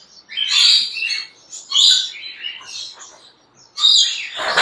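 Budgerigars at a pet bird exhibition, including a rainbow and rainbow spangle breeding pair, chirp in close, bright bursts of twittering calls separated by short pauses, with no talking.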